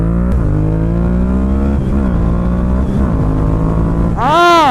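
A Yamaha MT-07 motorcycle engine revs close and loud, its pitch climbing and falling through several throttle blips before a sharp high-pitched rev at the end.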